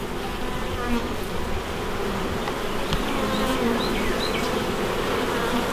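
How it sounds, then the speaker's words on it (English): Dense, steady buzzing of many honey bees swarming close around an opened hive during an inspection of brood frames, a continuous insect drone with no talk. "Lots of bees."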